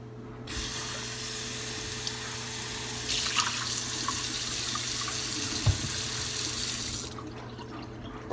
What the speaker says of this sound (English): Rinse out the sink, get rid of all the disgusting remnants.